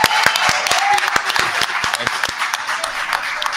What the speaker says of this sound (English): I'm going to ask if everybody can give Keith Freeman a round of applause